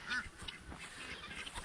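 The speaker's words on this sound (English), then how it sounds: "you can hear our ducks" Farm ducks quacking in a short series of nasal calls, moderately close and fairly faint, with no talking over them.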